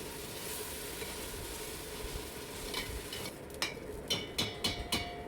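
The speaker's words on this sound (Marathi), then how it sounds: "हे वाटणसुद्धा आपल्याला तेलात चांगलं परतून घ्यायचं आहे" Onion and spice paste frying in oil with tomato, ginger, garlic and mint for mutton biryani, a steady close sizzle that gives way to a series of sharp rhythmic clacks of a spoon against the pot, no talking.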